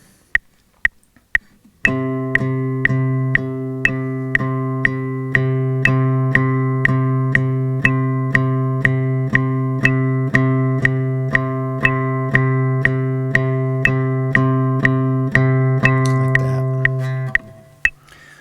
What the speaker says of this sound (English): playing along to the metronome